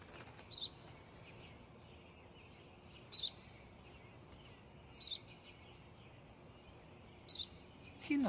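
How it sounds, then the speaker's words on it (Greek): A sparrow gives four brief, sharp chirps spaced a couple of seconds apart, fairly faint against a quiet, steady background hiss. "Ένα σπουργίτη είναι, πατέρα."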